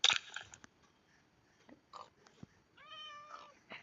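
A Minecraft cat gives a short electronic meow near the end, preceded by scattered crunchy bites and clicks, all faint and without talk.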